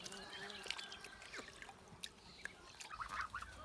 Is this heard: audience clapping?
no